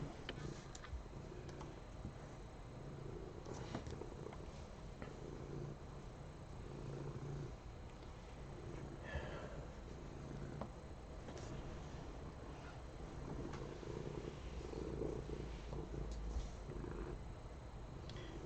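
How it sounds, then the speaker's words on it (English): A house cat purrs loudly and continuously while sitting at a computer desk, a close, rhythmic rumbling throb with faint ticking clicks throughout. "You're such a loud cat."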